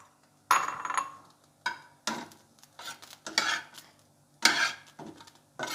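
Raw chicken being mixed with garlic paste in a bowl, with a run of wet squelching and scraping strokes, each burst separated by short pauses, close and loud.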